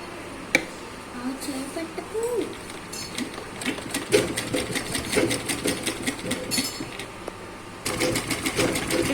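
A sewing machine stitches a cross-cut blouse in close, rapid bursts of needle clatter that stop and restart, with a short pause near the end before the stitching resumes.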